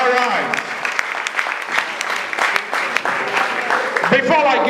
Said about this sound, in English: Keep clapping for him. Keep clapping, celebrating.